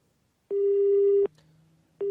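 A telephone disconnect tone sounds on a live call line during a televised weather discussion: a steady electronic beep for about three-quarters of a second, a short gap with faint hum, then another beep begins.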